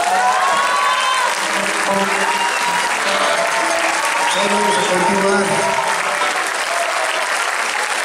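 Loud, sustained applause from a large audience at a posthumous tribute concert fills the whole stretch, with a voice speaking over the clapping.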